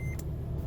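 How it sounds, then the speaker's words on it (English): Seatbelt warning chime in a Toyota FJ Cruiser, a single short electronic tone after the key goes into the ignition, heard close inside the cabin over a low idle-like hum. "your seatbelt chime"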